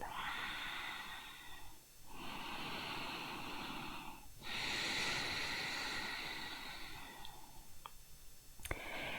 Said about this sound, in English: Come back and reconnect to that Ujjayi breath.